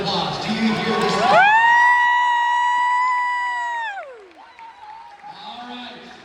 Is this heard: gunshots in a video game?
no